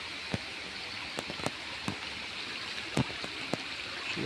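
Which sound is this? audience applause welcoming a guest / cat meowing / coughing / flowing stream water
flowing stream water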